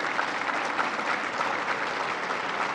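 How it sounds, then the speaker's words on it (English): A crowd at a political speech in Iowa claps steadily, producing a dense, even wash of applause that stays loud and continuous from start to finish. "Give yourselves a round of applause."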